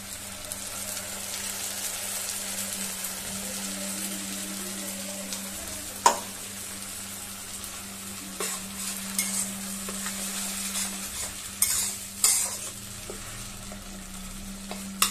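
Ground tomato puree sizzles and fries in a pan with onions as it is stirred, giving a steady frying hiss with sharper scrapes and clinks near the end, no talk.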